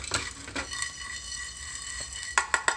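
Rock salt and spices being dry-roasted in a pan for idli podi: light scraping and stirring clatter with a few sharp metallic clinks of a spoon against the pan near the end, close and fairly quiet.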